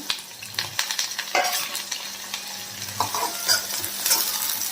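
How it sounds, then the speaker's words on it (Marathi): Onion, mustard seeds, cumin and curry leaves fry in hot oil with a continuous close sizzle, punctuated by spluttering pops and the scrape of a stirring spoon against the pan. "तेलामध्ये मी टाकत आहे थोडीशी मोहरी त्याच्यानंतर थोडंसं जिरं आणि कांदा कांद्यासोबत थोडासा कडीपत्ता पण टाकून देते"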